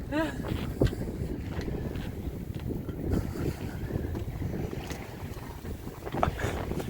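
A sailboat is under way in strong, gale-warning winds, with steady roaring wind buffeting the microphone and rushing water throughout, and faint voices mixed into the noise.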